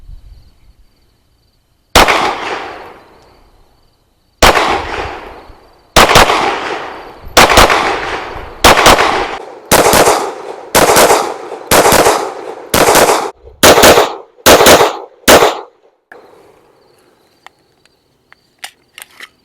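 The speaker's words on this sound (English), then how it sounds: "We will do some more double taps." Springfield Armory Echelon pistol fired in quick pairs of double taps, a dozen or so sharp loud reports in rapid uneven rhythm, close and alone with no talking.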